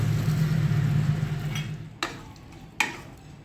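Spoon stirring boiled peas and potatoes into a spiced ragda masala in a pot, a continuous low scraping churn for the first half, then two sharp clinks of the spoon against the pot rim.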